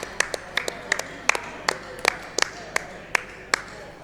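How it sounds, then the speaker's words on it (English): Scattered handclaps from a small audience at a Mortal Kombat XL top-8 tournament, about ten sharp claps spread unevenly over four seconds rather than a full ovation, with faint room murmur underneath. "Round of applause."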